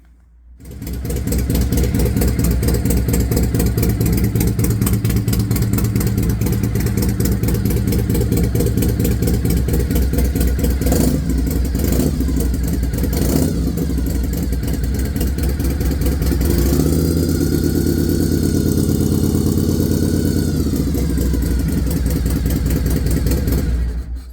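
A 1998 Harley-Davidson Fat Boy Evo idles close and loud with a steady, throbbing low rumble that continues without a break and holds level through a small blip of throttle.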